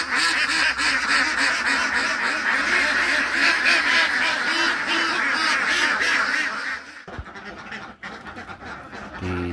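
Flock of laying ducks in their pen in the morning, a dense, loud chorus of overlapping quacks close by for most of the stretch before it abruptly drops to a few scattered calls.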